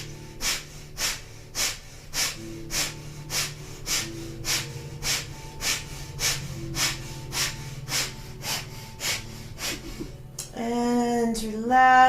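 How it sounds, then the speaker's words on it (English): Kundalini yoga breath of fire, rapid forceful breathing driven by pumping the navel, heard as a steady train of sharp, evenly spaced nasal exhalations, roughly two per second, close and alone, ending in a longer drawn breath. "powerfully pumping the navel, breath of fire, building the prana life force energy in the body and oxygenating the blood"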